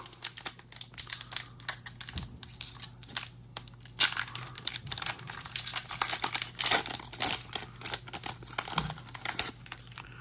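Foil wrapper of a Pokémon Scarlet & Violet Obsidian Flames booster pack crinkles and tears open close by, with bursts of crackling and crumpling running unbroken and fairly loud.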